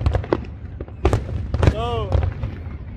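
Chinese New Year fireworks in Macau go off in loud, close bangs and crackles, with a rising whistle in the middle, while people talk and exclaim over them.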